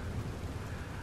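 In the video game Red Dead Redemption 2, rain falls with a low thunder rumble, a dense steady wash of rain under a deep rolling boom, heard alone.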